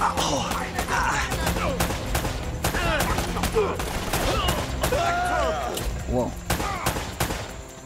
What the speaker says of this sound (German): Die schießen auf uns beide, oder?